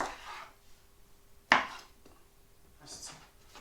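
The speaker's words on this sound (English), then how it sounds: "And then slice it. Like so." A knife slices through an aubergine on a cutting board with one sharp, close chop, followed by softer scraping and handling noises.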